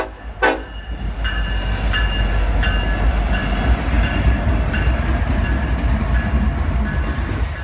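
A Union Pacific freight bound for St. Louis rolls past on the main line in central Missouri behind an SD70ACE locomotive. A short, loud horn blast sounds first, then a steady close rumble and rattle of passing cars follows.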